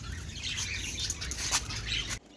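Birds call and chirp outdoors in a steady, busy chorus over a low background rumble, cutting off abruptly near the end; no one speaks.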